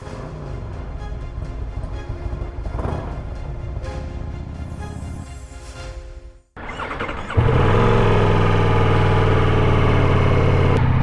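A 2022 Ducati Multistrada V4S motorcycle engine idles with a low, steady rumble. It cuts out briefly near the middle, then returns markedly louder and fuller, holding a steady, close running note to the end.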